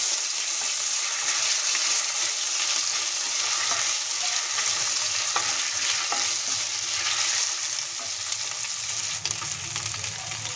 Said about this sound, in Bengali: ফোড়নের সঙ্গে আদাটা দিলে দারুণ সুগন্ধ হয়। হালকা ফ্রাই করে নেব আদাটা।